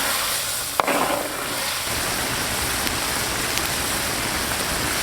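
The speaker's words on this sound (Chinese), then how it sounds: "再大火收汁" Cola-braised pork ribs sizzling in a pan as the sauce reduces over high heat, a steady, dense hiss and crackle running throughout with a brief louder sputter near the start.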